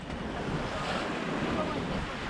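Wind and a gentle sea swell wash around a sailboat, a dense, even hiss of water and air that stays steady and close for the whole moment.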